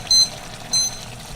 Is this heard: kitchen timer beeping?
yes